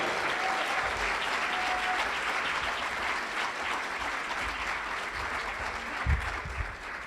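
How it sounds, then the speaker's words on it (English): An audience at a Making Strides Against Breast Cancer kickoff event applauds to welcome a speaker, dense, full clapping that stays sustained and even, with a few louder thumps near the end. "Big round of applause."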